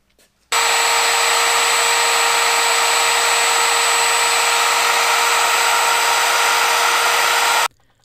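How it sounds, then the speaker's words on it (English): A router plunges into a wooden 2x6 for a deep cut, starting abruptly with a loud, steady high-pitched whine that holds for about seven seconds, then stops sharply. "I marked the location where I needed to make a deep plunge cut with my router"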